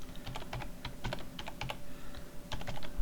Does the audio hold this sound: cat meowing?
no